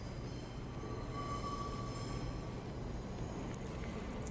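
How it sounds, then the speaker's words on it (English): A subway train arriving at a station, a steady low rumble of wheels on rail with a thin metallic squeal rising midway and brief hissing near the end, continuous and fairly close, with no talk. "The train is coming."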